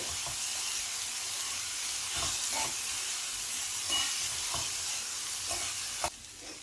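Sliced onions with dried red chillies frying in oil in a pan, a continuous close hiss and sizzle with occasional soft stirring scrapes, fairly quiet and steady, a brief knock near the end, no voices.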